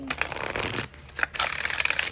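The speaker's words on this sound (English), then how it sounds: "I want to shuffle." Tarot cards are shuffled by hand in two bursts of rapid papery riffling and slapping, separated by a short pause, close and fairly loud.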